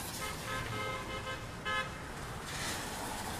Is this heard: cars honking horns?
yes